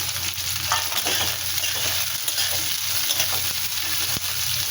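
Chili, garam masala and cashews fry in a pan, giving a steady close sizzle with scraping stirs throughout, no voices.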